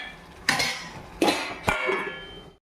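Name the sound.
lid being put on a cooking pot of mutton curry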